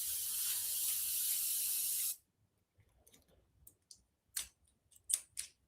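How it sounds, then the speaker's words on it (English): An airbrush used on zombie art gives a loud steady hiss of spray that cuts off abruptly, followed by scattered sputtering spits and clicks in irregular bursts. "Airbrush is having a hissy fit"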